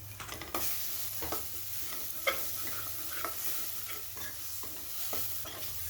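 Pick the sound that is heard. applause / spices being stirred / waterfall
spices being stirred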